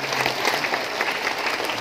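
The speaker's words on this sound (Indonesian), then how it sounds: "Dan tepuk tangan yang meriah untuk kor dari Hamini." A congregation at a thanksgiving Mass for a newly ordained priest applauds a choir, producing steady close clapping throughout a brief burst with no talking.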